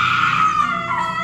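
A woman shrieks in fright, a long, loud, sustained scream that wavers in pitch and holds for the whole moment, set in a dark haunted Rajasthani mansion.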